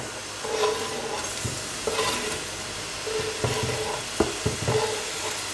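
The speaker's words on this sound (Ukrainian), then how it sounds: "Тушимо цю цибулю до прозорості" Finely chopped onion frying in vegetable oil in a pan, a steady close sizzle broken by the scrape and clatter of stirring, with no one talking.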